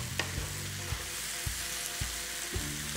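Sausage fries in a pan with a steady, soft sizzle, broken by a few evenly spaced clacks of a utensil stirring or shifting the meat, heard close and alone without voices.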